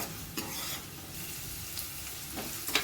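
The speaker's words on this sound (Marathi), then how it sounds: "पहिला कांदा चांगला गोल्डन ब्राऊन होऊन द्या." Onion fries in a pan, a steady close sizzle broken by several scraping stirs and light clinks of a utensil against the pan.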